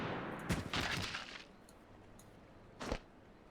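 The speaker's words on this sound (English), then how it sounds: "Oh, who's shooting?" Gunfire in the video game Final Fantasy XIV: a loud, crackling burst of rapid shots lasting about a second, a quieter spell, then one more sharp short volley.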